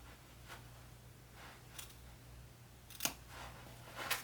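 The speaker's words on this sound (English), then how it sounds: "I'm going to cut diagonal right up against my stitches, but not going through my stitches." Scissors cutting fabric diagonally right up against the stitching, several faint, quiet snips spaced about half a second to a second apart over a low background hum with no talk.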